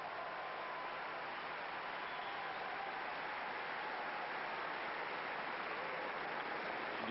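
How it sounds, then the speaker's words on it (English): A tennis crowd at the 1995 Australian Open applauds in a steady, even wash of distant clapping that holds at a low level throughout, with no voices on top. "The crowd appreciating the effort of Jonsson."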